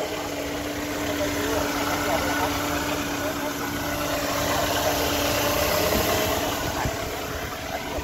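A 1994 Mercedes with a 2.2-litre engine idles at a car market, giving a steady, even low hum with a smooth, constant drone throughout.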